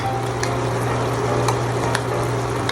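A spoon works a wet paste of ground ginger, garlic, coriander, turmeric and chili powder with a little water for fish curry, giving soft continuous scraping and squelching over a steady background hum.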